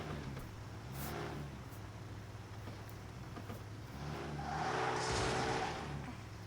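Car engine sounds from the video game Car Simulator 2, a droning motor that rises in pitch as it revs, ending with a louder acceleration.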